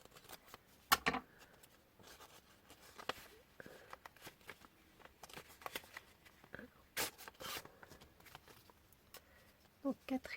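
A mailed envelope torn open by hand without scissors, with bursts of crisp paper ripping and crinkling scattered between quieter rustles, close and soft, while someone speaks.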